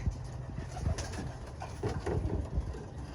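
Racing pigeons in a loft give soft, low cooing calls in short repeated bursts against a steady background hum, fairly close and with no talking.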